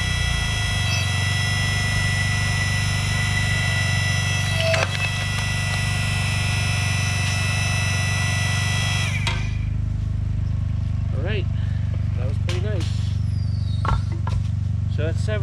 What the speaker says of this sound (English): You can hear my generator kicking up in the background.